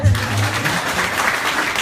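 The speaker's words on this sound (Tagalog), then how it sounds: "Palakpak mo na ba?" An audience at a new distributors' orientation claps in a dense, steady burst of applause that fills the short stretch, with faint voices mixed in.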